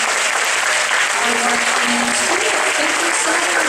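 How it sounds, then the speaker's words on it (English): Dense, loud applause from a school assembly audience, continuous and sustained throughout, with some voices and cheers mixed into the clapping. "Let's give a big applause."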